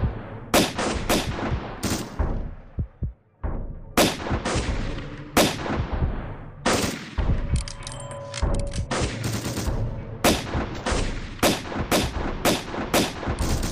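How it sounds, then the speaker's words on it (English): Double action revolver firing in a Flash video game, a series of sharp, loud gunshots spaced irregularly, some in quick pairs, over game sound effects and background music. "Double action revolver."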